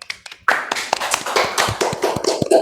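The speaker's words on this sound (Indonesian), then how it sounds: "Oke, kasih aplaus dulu ya." Applause at a talk on gender-based violence for the 16 Days of Activism, a burst of close hand claps that starts abruptly and carries on in an uneven patter of taps to the end, with no voices.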